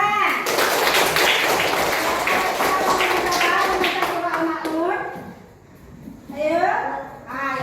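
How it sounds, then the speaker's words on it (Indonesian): Children clap their hands in a rhythmic, repeated pattern along with chanted recitation during a Quran lesson, with voices running through the whole passage and the clapping fading briefly near the end. "Ya, tepuk tangan."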